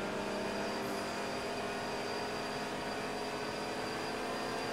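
A steady, loud car engine roar in GTA 5 Online holds at a constant drone throughout, with a broad rumbling hum and no break in the sound.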